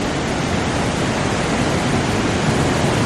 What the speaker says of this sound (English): we're in like a giant cave and there's just all these waterfalls